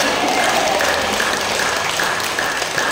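Congregation at a church service in Taal, Batangas claps in a sustained round of applause, a steady, full wash of many hands clapping together at close range.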